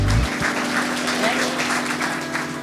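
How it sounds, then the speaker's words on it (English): Church congregation at an evening gospel singing applauding together as an offering of praise, a steady close wash of clapping with voices mixed in, fairly loud throughout. "Give the Lord a clap offering of praise."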